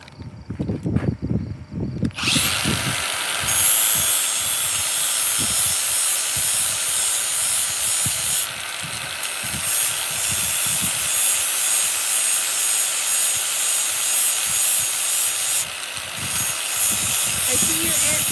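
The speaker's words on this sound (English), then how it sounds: "I'm going to use the flap disc on it." Angle grinder with a flap disc sharpening a baler knife in a barn, starting after a moment of background talk and then whining loud and steady for a long stretch, with slight dips in pitch.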